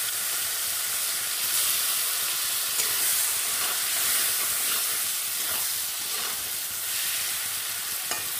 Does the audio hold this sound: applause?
no